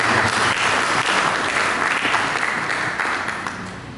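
Applause from a church congregation during a sermon, a dense steady clapping that fills the room and fades slightly toward the end.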